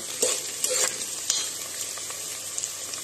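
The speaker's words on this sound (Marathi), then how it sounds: "कांदा चांगला परतून घेऊया." Onion sautés in a hot pan with a steady sizzle and hiss, broken by a few clinks and scrapes of stirring, close and alone.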